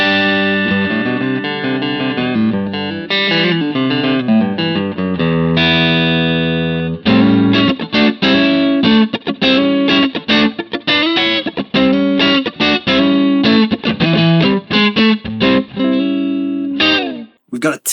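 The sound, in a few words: bass through Harley Benton DNAfx GiT USA 59 amp model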